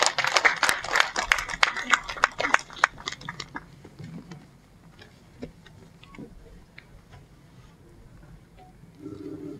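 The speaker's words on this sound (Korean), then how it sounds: "따뜻한 박수로 맞이해 주십시오" Audience at a literary museum opening ceremony in Geochang applauding as an actress walks onto the stage, a burst of clapping nearby that quickly thins out to scattered claps and fades into room quiet.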